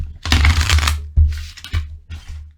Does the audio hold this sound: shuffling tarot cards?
yes